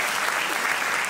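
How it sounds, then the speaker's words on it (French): Brief burst of dense audience applause at a live comedy show, steady and close with no pause. "On l'applaudit, vraiment? On l'applaudit?"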